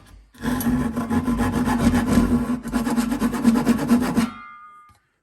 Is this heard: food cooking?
no